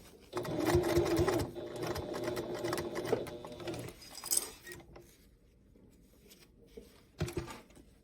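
A sewing machine stitches a boxy bag in short runs, its rapid mechanical whir loud for the first few seconds, then pausing, with fabric handling, a light clink and a brief final burst.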